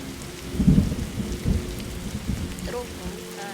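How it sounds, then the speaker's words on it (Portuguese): Thunder rumbles in a rainstorm in the video game 99 Nights in the Forest, with low, rolling booms over a steady hiss of rain. "Trovão, cara."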